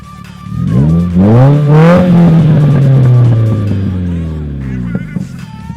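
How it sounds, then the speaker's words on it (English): A Subaru engine with a single race exhaust and small muffler revs hard, pitch climbing to a loud aggressive roar, then winding down with a deep rumbling exhaust burble, close and powerful. "Its smaller muffler will absorb less sound and let out the most aggressive exhaust tone."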